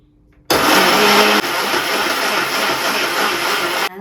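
A kitchen blender grinds grated coconut into coconut milk for a Jaffna-style chicken curry, starting abruptly into a loud, steady whirring roar that dips slightly in pitch partway through and runs alone until it cuts off.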